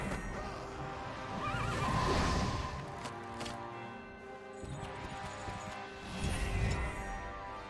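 Horse neighing in the fantasy strategy game Heroes of Might and Magic 5, a loud, drawn-out whinny followed by a second shorter neigh, set among battle effects and swooshes with no talking.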